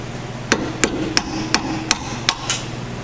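A drift punch tapping a hydraulic pump part on a Ford 641 tractor: seven sharp metallic strikes at an even pace, close and distinct over a low steady background hum.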